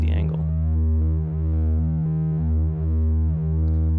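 Make Noise DPO oscillator sine wave with slight wavefolding, a steady harmonic-rich tone that pulses gently in a rhythmic, animated throb, sustained throughout with no voices.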